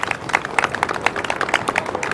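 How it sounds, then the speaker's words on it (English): A crowd applauds council members at a ferry landing on East 34th Street, a short burst of dense, steady clapping from many hands nearby. "Let's give them all a big round of applause and thank them."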